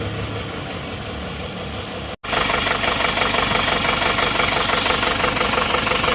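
A cold Isuzu Panther diesel engine idles after a morning start, a loud steady knocking clatter that cuts out briefly and then resumes even harsher and denser.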